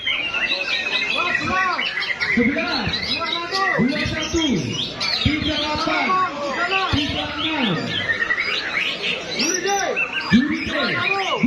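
Murai magpie robins sing at a KKMB songbird contest in Banyuwangi, with rapid whistled phrases, chirps and squawks from several birds overlapping nearby, joined by crowd chatter and talking throughout.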